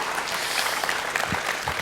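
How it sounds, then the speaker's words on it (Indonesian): An audience claps in response to a speaker at a talk, a brief, even patter of applause from a gathered crowd, fairly close and without speech over it. "Nah, boleh tepuk tangan."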